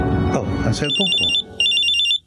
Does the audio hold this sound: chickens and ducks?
no